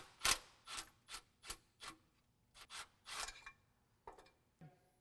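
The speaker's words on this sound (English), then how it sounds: "We're going to get this electrical panel cover removed by removing these two screws." Two screws come out of the electrical panel cover on a three-phase motor during a rebuild, giving a close series of short, sharp scraping and clicking bursts with brief gaps between them, quiet and without talk.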